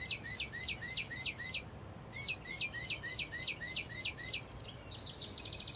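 A squeezed toy bird chirps in two runs of rapid repeated high tweets, a short pause between them, then a denser warbling trill at the end, with no talk over a low background rumble.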